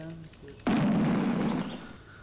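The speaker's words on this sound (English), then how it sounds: "Very realistic simulation of shotgun physics" Shotgun firing in the hunting game Canada Hunt, a single sudden loud blast with a dense noisy roar that holds for about a second before cutting back, near and dominant.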